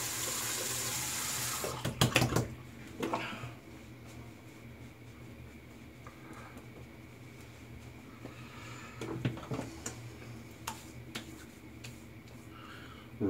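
A tap runs water to rinse an alum block after a shave with a Phoenix Shaving Starling V2 open comb razor, making a faint, steady flow with a few louder splashes and clatters scattered through it.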